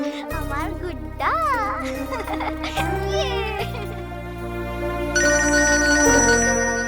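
A phone ringtone plays a bright, warbling electronic melody for about seven seconds, steady and fairly loud over a low sustained musical backing, with no talk.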